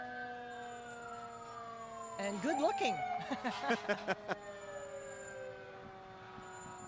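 A fire truck's siren, engine 34, sounds during the Comox Nautical Days town parade, a steady wail slowly winding down in pitch across the whole clip while someone speaks briefly over it in the middle.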